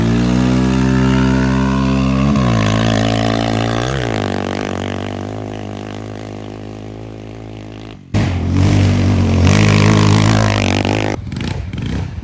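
Yamaha Raptor 700 and Honda TRX 700 ATVs accelerating hard in sand, a loud close engine roar climbing through gear changes, then cutting off briefly before a second rough, raspy surge of throttle.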